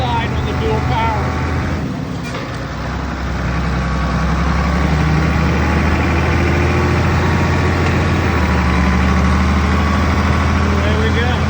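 A Ford 8000 tractor engine idles and runs with a deep, steady low rumble throughout, loud and close, during hay baling with a dual power transmission.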